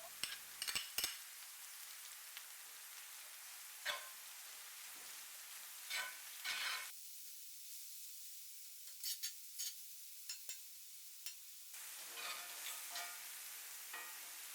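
Scallions and garlic simmer in kimchi sauce in a pan for kimchi fried rice, giving a soft, quiet sizzle broken by occasional scraping and stirring clatter, with near-silent stretches in between.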